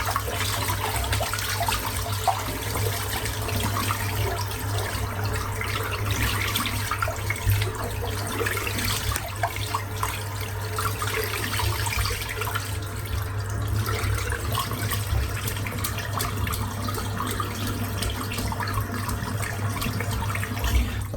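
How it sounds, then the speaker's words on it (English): Tap water running continuously into a sink while a shaving brush is rinsed under it, a steady close hiss and patter without pauses or speech. "I've just rinsed the soap out of the brush"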